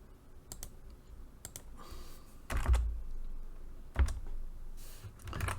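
Typing on a computer keyboard while drafting in AutoCAD, with sparse, close clicks in short clusters and a few louder thumping keystrokes, separated by quiet gaps.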